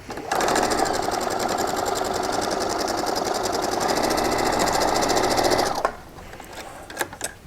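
A sewing machine runs steadily for about five seconds, stitching variegated cloth pieces for a cityscape quilt, loud and close with a fast even whir, then stops and leaves only faint handling noise.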